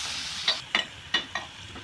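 Red chili powder and asafoetida frying in oil for paneer bhurji: a quiet, steady sizzle marked by four quick spatula scrapes in a short, uneven rhythm.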